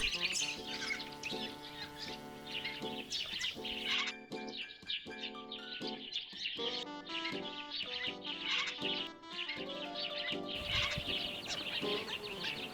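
A pair of Major Mitchell's cockatoos call back and forth, with harsh, repeated screeching and chattering notes close by, with scarcely a gap between calls.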